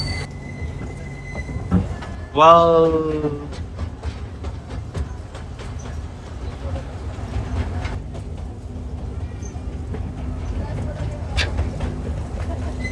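A small toy train carries riders around a short loop at the Mysore railway museum, with a steady low rumble of wheels and running gear throughout and people talking and exclaiming over it.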